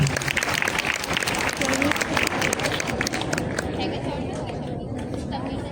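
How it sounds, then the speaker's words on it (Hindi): A classroom audience claps in a steady dense wash for a hackathon round, with chatter and voices mixed through the applause, loud and close from start to finish. "तो भाई अपने लिए आप लोग तालियां बजाएं"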